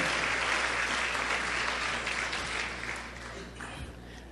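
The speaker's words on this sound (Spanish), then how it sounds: "Dale más fuerte ese aplauso al Rey" A church congregation applauds during a sermon, a dense, loud sustained roar of clapping from many hands that tapers gradually over the last seconds.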